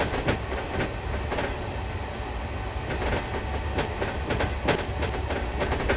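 A Chinese CRH380A high-speed electric multiple unit train runs steadily, its rail noise a continuous loud rumble with rhythmic clickety-clack wheel beats, simulated in Train Simulator 2016.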